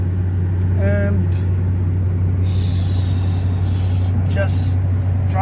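A car cruising along the I-90 highway gives a steady, fairly loud low drone of engine and road noise throughout, with a few brief higher chirps and faint voice-like sounds over it.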